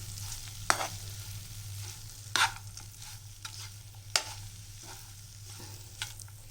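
Broad beans with ground peanuts being stirred in a pan: a faint sizzle underlies a few sharp scraping stirs spaced a second or two apart, close and quiet, with a low steady hum beneath and nobody talking.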